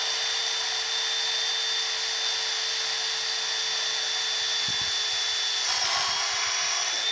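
A power drill bores a hole through wood for a garden vegetable bed, giving a loud, steady, high-pitched whine that holds throughout, with a couple of faint knocks and a slight change in tone near the end.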